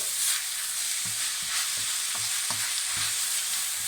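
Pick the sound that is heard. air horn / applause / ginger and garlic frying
ginger and garlic frying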